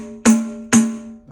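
Two crisp strokes on a pandeiro made with three fingers curled like a claw hit the drumhead close up, each a bright snap that leaves a short, sustained pitched ring, and a softer touch closes the pair.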